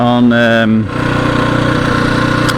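A 1981 Yamaha XT250 motorcycle engine idles nearby with a steady, slightly fast putter after a short, tonal burst of sound at the start.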